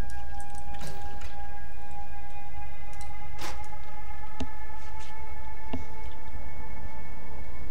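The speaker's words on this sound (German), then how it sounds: "Das wäre eine Sirene im Hintergrund." Siren in the background of a Path of Exile gameplay session, heard as a constant tonal wail under a loud, dense noise bed, with several sharp transient clicks breaking through at intervals.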